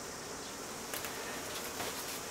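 Honeybees bringing nectar to a top bar hive hum steadily and faintly, with a few louder buzzes as single bees pass close by.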